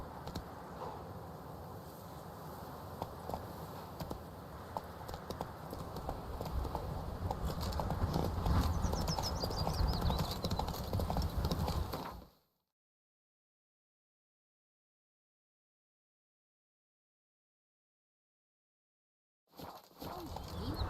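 Hoofbeats of the horse Roach in The Witcher 3, a clear clip-clop rhythm over game ambience that builds for about twelve seconds, then cuts to silence before sound briefly returns.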